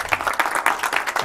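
A conference audience breaks into applause, a short burst of rhythmic, fairly close clapping that rises and falls in quick pulses.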